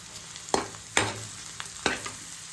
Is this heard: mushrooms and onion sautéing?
yes